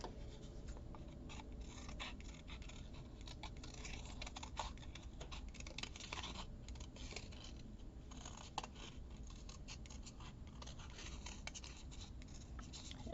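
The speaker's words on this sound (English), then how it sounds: "I can cut this lantern out." Scissors snip steadily through paper, cutting out a small paper lantern shape for a handmade Christmas journal card, with close, quiet, continuous rhythmic cuts and no talking.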